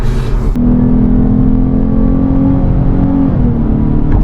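A 2025 Lexus IS 350 F Sport sedan switched into sport mode and accelerating hard, a loud close engine drone rising in pitch with road and wind noise, no one talking.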